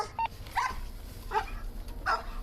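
A police dog barks in sharp bursts, about four loud close barks spaced unevenly over a couple of seconds, during a police standoff with a suspect, with low background rumble between barks.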